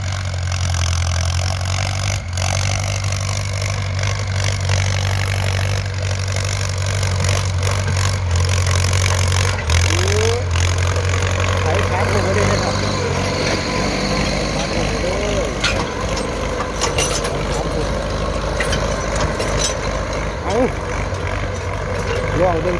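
Ford 6600 tractor engine running while plowing a field, a loud continuous low diesel drone with shifting load, close by, with a voice talking over it.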